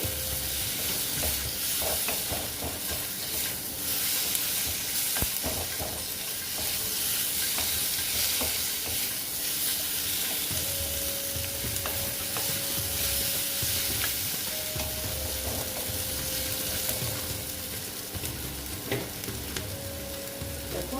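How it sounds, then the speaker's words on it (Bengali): Rohu fish curry sautéing and being stirred in a pan, a steady loud sizzle with repeated scraping stir strokes throughout, no voices. "দেখো বন্ধুরা আর একটু কষিয়ে নিচ্ছি"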